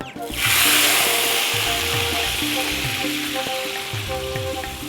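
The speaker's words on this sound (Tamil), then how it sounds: "கத்திரிக்காய் வதக்க போகிறோம்" Brinjal pieces sauté in a hot pan, hissing and sizzling loudly as they hit the oil, then settling into a steady crackle with faint scraping and tonal background music underneath.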